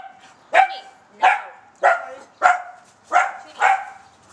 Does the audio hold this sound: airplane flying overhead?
no